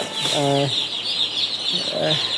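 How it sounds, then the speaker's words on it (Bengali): Broiler chickens on a poultry farm give two short clucks about a second and a half apart, heard close over a steady background hum. "মুরগিগুলা"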